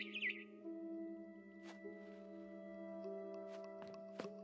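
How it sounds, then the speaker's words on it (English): A barn swallow chirps outside a window in the video game What Remains of Edith Finch; faint, brief scattered tweets sit over a steady low humming tonal music bed. "Then I heard chirping outside my window."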